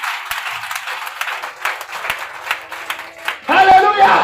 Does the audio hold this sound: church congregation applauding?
yes